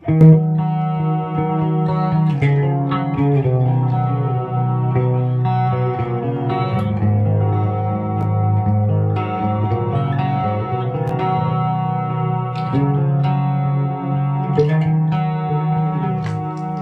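Clean electric guitar playing sustained chords and melodic notes, with delay repeats trailing behind each phrase, steady and fairly loud, no voices.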